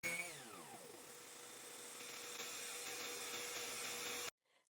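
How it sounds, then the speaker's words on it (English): A wood router spins up and runs along the edges of a sanded board cut from an old headboard, a steady loud whine with a falling tone at the start that cuts off sharply near the end. "got my router ready to run over the edges before I connected the sides"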